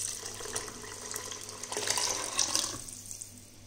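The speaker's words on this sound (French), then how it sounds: "J'ai rajouté 1 litre d'eau." A litre of water pours into a pot of Moroccan harira soup, a steady close splashing gush that runs for a few seconds and then tapers off abruptly.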